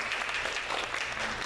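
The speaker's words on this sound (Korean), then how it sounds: "우리 한번 격려의 박수로" A church congregation applauds in encouragement during a Korean anniversary thanksgiving service, a brief, steady burst of clapping from many hands filling the room.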